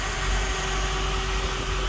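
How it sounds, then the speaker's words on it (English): Steady whirring hum of the air conditioning compressor and fan in a 1959 Cadillac, with a constant tonal drone and broadband rush, continuous and unchanging throughout. "that is the compressor and the fan running for that"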